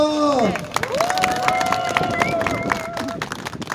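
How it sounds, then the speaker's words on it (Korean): Crowd at an outdoor election campaign rally in Incheon claps and cheers steadily, with a sustained shouting tone and a dense wash of hands beneath, voices of the crowd mixing in throughout. "다시 한번 박수 주시기 바랍니다"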